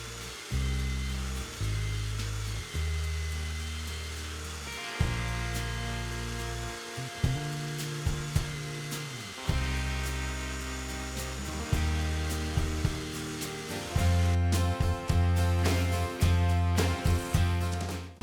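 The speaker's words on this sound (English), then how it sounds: "I have this jig for my belt sander to keep it in place" Belt sander held in a homemade jig sanding wood: a loud, continuous motor whine whose pitch shifts in steps as the load changes, alone without speech.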